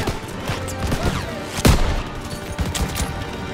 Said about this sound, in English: Come on, they need cover fire! Suppressive fire! Keep firing!